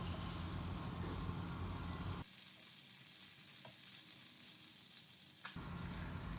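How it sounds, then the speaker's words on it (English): Blanched bok choy stir-fried in a pan over medium to high flame, a loud dense sizzle that drops to a quieter frying hiss for about three seconds, then surges again, with no talking. "on medium to high flame we will stir fry them for 1 minute or so"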